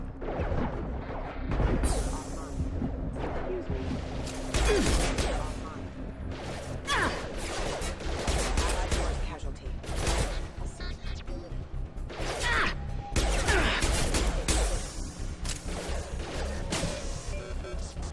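Heavy gunfire and crashing impacts in the sci-fi shooter Mass Effect 2, dense and loud throughout with sharp bursts and smashes layered over music and effects, and a voice talking over the combat.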